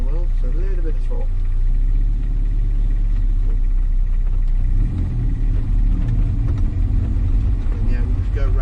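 Car engine on a circuit track day entering pit lane under light throttle, a steady low rumble that swells slightly partway through, heard from inside the car with people talking over it.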